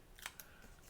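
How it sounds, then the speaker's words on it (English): Paper snips make two quick, crisp snipping cuts through paper while a handmade card is being assembled, close and quiet, with no talk. "I'm going to use my paper snips and cut it in half"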